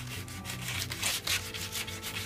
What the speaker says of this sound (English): And now you're block sanding it by hand?